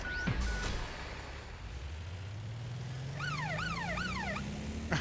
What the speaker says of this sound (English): I just like the sirens.